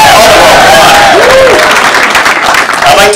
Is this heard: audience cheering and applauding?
yes